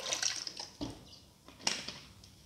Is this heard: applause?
no